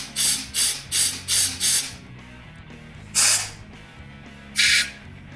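Compressed air blasts through an orifice of a Vulcan motorcycle carburetor being cleaned: five quick loud hissing bursts in a row, then two longer separate blasts after short pauses.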